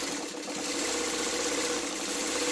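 A sewing machine stitches quilt patches in a steady, continuous mechanical whir, close and even throughout.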